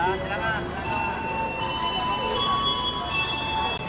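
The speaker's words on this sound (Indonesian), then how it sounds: "kereta api komuter lain Garut telah tiba di stasiun Bandung" Commuter train from Garut arriving at a crowded Bandung station platform, steady rumble with bell-like tones and faint wheel squeal throughout, under an announcement voice and crowd noise.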